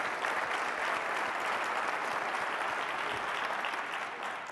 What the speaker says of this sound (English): Would you guys join me in giving these guys a big round of applause?